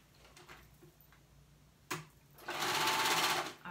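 A sewing machine stitches hoodie bodice pieces together. A few faint clicks and a sharp knock come first, then a loud, steady run of rapid stitching fills the final second.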